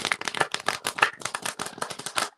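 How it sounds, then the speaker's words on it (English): Plastic playing cards riffle-shuffled by hand: a rapid burst of crisp flapping clicks runs through the whole moment, close and steady, with no voices. "I don't know if you've ever shuffled a plastic deck"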